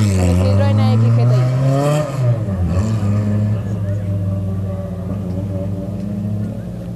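Rally cars taking part in a regularity section of a Tenerife rally idle and rev nearby before the start, with a loud engine note that rises then settles into a steady rumble while a commentator talks over it.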